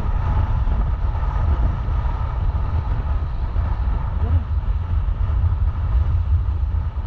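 Strong wind roars steadily across the open sea on a fishing trip in bad weather, a constant low buffeting rush against the microphone with a boat's hum beneath it.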